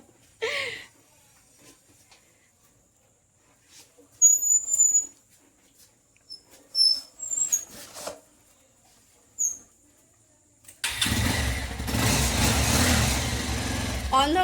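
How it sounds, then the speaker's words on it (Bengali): After a quiet stretch of scattered small clicks and chirps, a motorcycle engine starts and settles into a loud, steady, rumbling idle close by. "ও এখন বাইক বের করছে।"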